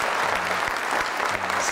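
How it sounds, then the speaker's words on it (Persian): An audience applauds at a televised Persian comedy talk show as a guest is introduced, a steady wash of clapping from many hands held at even loudness throughout. "تشویقشون بفرمایید."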